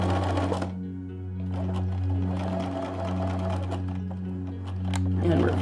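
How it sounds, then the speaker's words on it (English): A sewing machine stitches hexagon fabric pieces around a centre piece, a steady close motor whir with a low tonal drone, running continuously with a brief dip near the start. "I just continue to sew all the way around"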